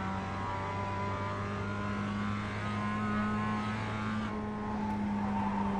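An H-pattern race car in iRacing, its engine droning steadily at high revs as a loud, continuous tonal hum with a slight shift in pitch near the end.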